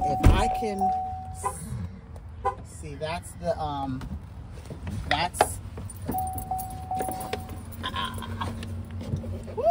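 Mechanical clunks and a rattling latch sound as the third-row seat mechanism of a 2024 Chevrolet Suburban LTZ tries to release, with a person talking over it and a chime ringing twice.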